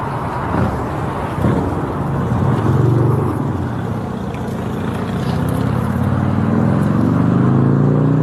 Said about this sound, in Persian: لذت ببر از 2 نسل ماشین آمریکایی.